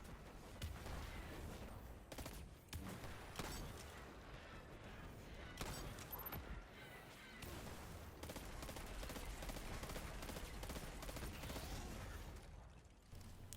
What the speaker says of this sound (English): You can see here I'm using my pulse rifle.